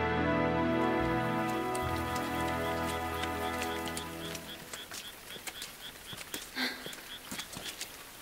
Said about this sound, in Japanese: 雨が降っていた。